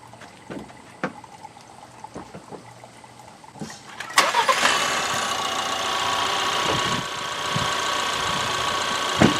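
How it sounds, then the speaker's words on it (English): A 2019 Ford Edge 2.0 EcoBoost engine cranks and fires after a few quiet clicks and knocks, then settles into a steady idle close by. "Now let's go ahead and start the engine and see what happens"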